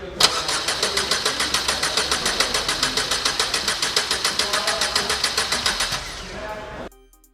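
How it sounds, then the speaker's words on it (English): A car engine cranks with a steady, rapid rhythmic chugging for about six seconds, then stops abruptly, during a fuel injector flow test with test tubes collecting fuel; no voices. "Crank the engine for 5 seconds."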